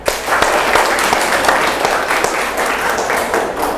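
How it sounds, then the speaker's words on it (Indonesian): Students clapping together in a classroom, a dense, steady patter of many hands lasting the whole few seconds, close and fairly loud with little else beneath. "Untuk kita semua tepuk tangan."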